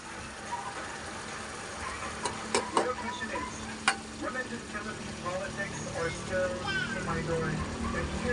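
Vegetables (pagulong with chili) fry in oil in a pan, a steady sizzle with sharp clinks and scraping stirs throughout, while a voice talks over it.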